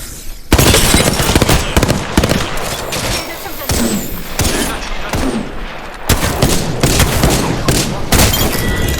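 Gunfire in the video game Apex Legends: dense, rapid volleys of shots crack and rattle almost without pause for several seconds, loud and close, with brief gaps and a speaking voice underneath.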